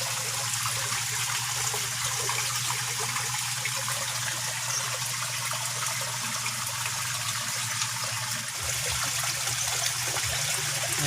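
Water from a koi pond shower pours and trickles steadily into the pond, a continuous close splashing wash over a low hum.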